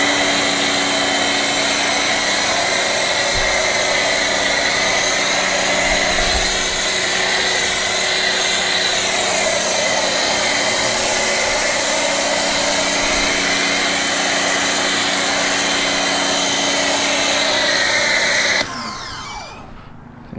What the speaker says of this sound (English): Let's go ahead and foam this one.